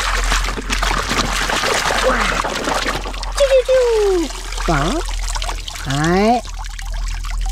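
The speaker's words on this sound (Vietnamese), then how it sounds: "Mình sẽ rửa em xe ben này nhá." Water pouring and trickling over a yellow toy dump truck being washed outdoors in a garden, with a person talking over it and several rising and falling vocal-like tones breaking through.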